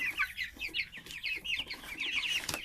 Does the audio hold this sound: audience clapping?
no